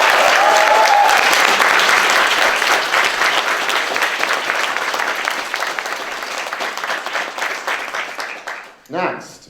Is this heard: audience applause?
yes